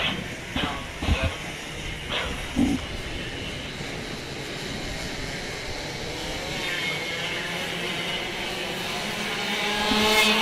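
Mini Swift race cars head out onto the track for a warm-up, their engines forming a steady, fairly loud roar that builds toward the end as a commentator talks over it.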